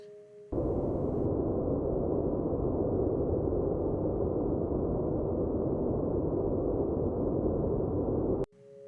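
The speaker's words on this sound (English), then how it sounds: "this thing that I found called celestial white noise" A celestial white noise recording: a steady, dense wash of low-to-mid rumbling noise plays continuously and evenly for several seconds, then cuts off abruptly.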